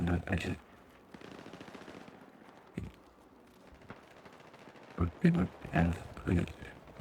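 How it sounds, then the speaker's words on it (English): Distant bursts of automatic gunfire in the video game Battlefield 6, several short volleys spread through the clip, mixed with a player talking over it. "I can hear shooting, I just can't see where it's coming from."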